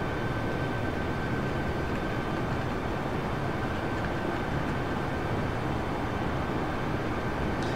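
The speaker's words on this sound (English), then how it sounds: "you don't want to hear the aircraft engine for an entire hour" A steady, droning aircraft engine hum from Microsoft Flight Simulator on a Winnipeg to Saskatoon flight, a constant low broadband roar with a faint tonal whine and no change throughout.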